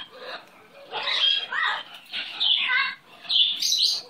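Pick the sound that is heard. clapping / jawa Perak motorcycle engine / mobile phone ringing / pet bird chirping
pet bird chirping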